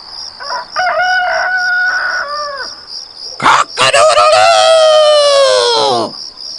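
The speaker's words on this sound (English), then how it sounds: "Says a rooster." A rooster crows loudly and close by in a children's musical story about country and city mice, one long drawn-out call following shorter clucking notes.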